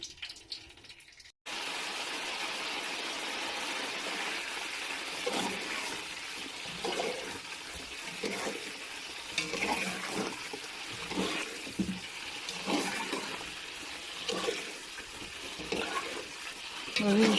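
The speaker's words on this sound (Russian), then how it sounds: "Начинаем опускать наши кусочки теста в масло." Pieces of baursak dough frying in oil bubble and sizzle steadily after a short quiet start, with a continuous crackling hiss broken by repeated stirring and splashing sounds up close.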